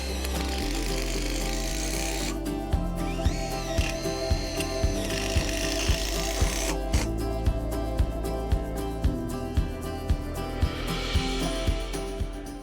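Screws driven into the bow joints of a Gothic caterpillar tunnel frame, a power driver giving a steady run of sharp ratcheting clicks over a continuous mechanical whir, close and fairly loud.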